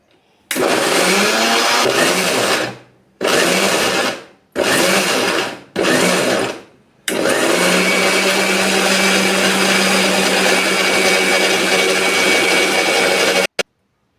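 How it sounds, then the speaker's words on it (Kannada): A mixer grinder grinds raw pineapple with cardamom in its jar without any water. It runs in four short loud bursts with pauses between them, then in one long continuous whirring run before cutting off. "ಈಗ ಕಾಯಿಯನ್ನು ಎರಡು ಏಲಕ್ಕಿ ಹಾಕ್ಕೊಂಡು ಇದನ್ನು ನೀರು ಹಾಕ್ದೇ ರುಬ್ಕೊಂಡ ಬರ್ತೇನೆ ರೀ"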